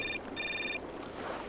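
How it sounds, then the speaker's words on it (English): Phone ringing in the video game Syberia: two short electronic ring bursts with a brief gap between them, clear and fairly loud over a soft ambient background. "Phone call."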